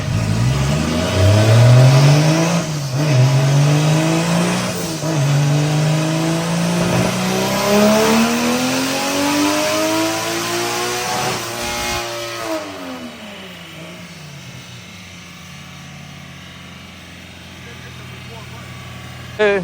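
A 1.5JZ engine revs hard on a dyno during drift prep, its loud rising and falling engine note sweeping up through the gears and then dropping back toward idle near the end.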